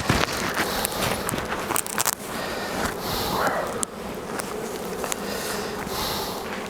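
Bees from a feral hive buzzing during an inspection, a dense, close swarm drone punctuated by clicks and handling noises, with faint voices now and then.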